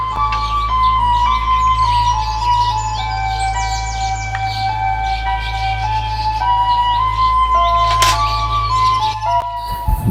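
A baya weaver bird calls to attract a mate from its finished nest, with a series of thin, sweet chirps and whistled tones over a steady low hum, fairly close, with no talking.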